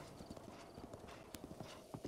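Horse hooves clip-clop in The Legend of Zelda: Breath of the Wild, a quick run of close, crisp hoof strikes at a steady gait, fairly quiet, with no talking.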